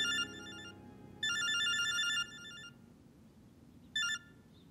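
A telephone rings in a series of bright electronic trills with short pauses between them, with one long burst and a brief final ring, fairly close and alone with no talk over it.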